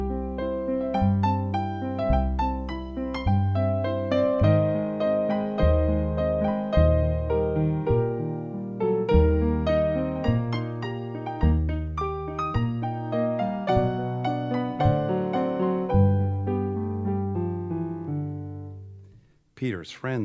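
An orchestra plays the lively, jaunty melodic theme for Peter from 'Peter and the Wolf', with clear, bouncing phrases lasting about twenty seconds before a brief pause and a final note.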